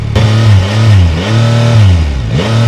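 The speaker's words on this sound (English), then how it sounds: "let's hear the sound. I put it into automatic, I pull the brakes and then push the start button" A 2025 Yamaha MT-09 AMT motorcycle engine fires up close and loud, then is blipped through several sharp rising-and-falling revs that settle back toward idle between each throttle snap.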